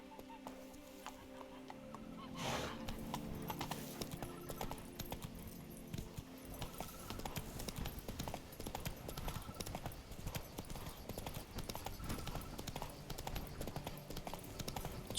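Hooves of a horse galloping in the video game The Witcher 3: Wild Hunt Blood and Wine, a fast steady clip-clop rhythm running throughout, fairly quiet, with a brief whinny-like swell near the start.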